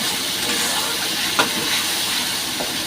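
Masala spices fry in a pan with a steady, bright sizzle and hiss, close and continuous, broken by a couple of soft scraping stirs.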